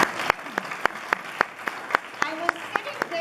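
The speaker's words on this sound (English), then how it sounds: "Can we have a round of applause for you folks?" A few hands clap in a slow, even beat at a candidates' Q&A meeting in Fredericton South, each clap sharp and distinct, with voices speaking over the rhythm partway through.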